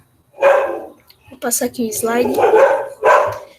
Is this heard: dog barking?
yes